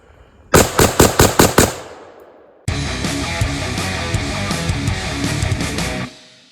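Gunfire from AR-platform rifles fitted with a Somogear PEQ15 aiming laser: a rapid burst of about six sharp, loud shots, a short pause, then a long sustained stretch of continuous fire that stops abruptly.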